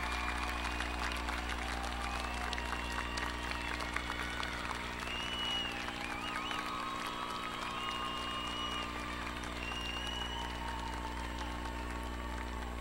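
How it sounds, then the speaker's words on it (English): Graduates at a university commencement ceremony applaud their families and friends, a broad, steady wash of crowd clapping from a large hall that continues evenly, fairly distant and soft. "turn around, and applaud your parents, significant others, family members, and friends who have supported you"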